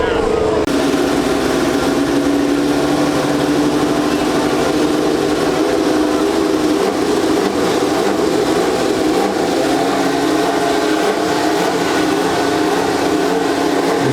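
Formula 1 cars at Goodwood firing up, a dense, loud, continuous engine roar with idling rumble filling the air, heard close with crowd noise and people talking over it.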